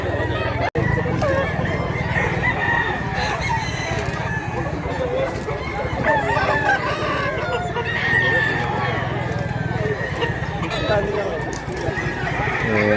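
A gamefowl rooster crows outdoors in Mantalongon, Barili, its calls rising over a busy background of other fowl clucking, with people talking throughout.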